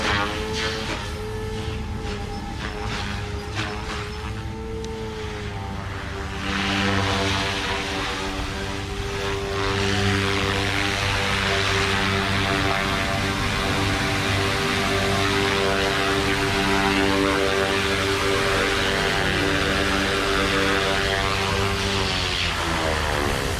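A Goosky RS4 RC helicopter on a test flight: the rotor and motor give a steady whining buzz with layered harmonic tones that shift pitch as throttle changes, rising and then holding a louder sustained drone, close to the microphone.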